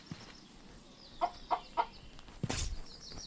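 A chicken in the video game A Township Tale gives three quick clucks in a row, followed by a louder flapping or scuffling burst, over faint background noise.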